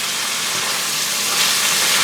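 Onions sizzle in hot grease in a pan, a loud, steady, broadband hiss and crackle with no pauses.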